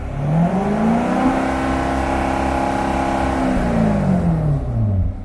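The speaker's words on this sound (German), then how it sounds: "ich habe den eben auch ein bisschen laufen lassen, ein bisschen höher drehen lassen" Engine of a Corvette C7 with an 8L90 transmission, warm from running, revving up to a steady higher pitch, holding it, then easing back down, loud and close with no talking.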